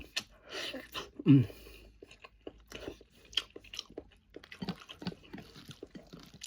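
Someone eating an egg with wet chewing and a few crisp bites, close and soft, in irregular bursts that carry on throughout.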